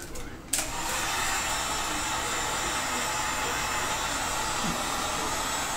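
Heat gun blowing hot air down a pipe while building a pseudo-Magyar bow, a steady loud rushing whoosh that starts abruptly and holds constant, close by.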